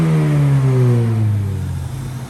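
Supercharged Mini Cooper R53 Type S pulling into a car wash, the engine loud and close with a falling rev note as it settles and rolls forward.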